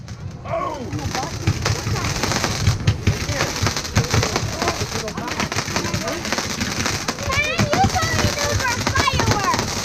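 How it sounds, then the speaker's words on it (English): Fireworks bursting at a 2020 night show, a busy run of booms, crackles and fizzing whistles at varied distances, with people talking and exclaiming over the explosions. "Oh, these are fireworks."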